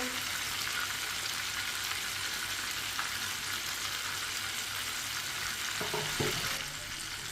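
Fish fries in a pan with a dense, loud, continuous crackling sizzle that barely varies, near and alone, with a couple of faint knocks toward the end.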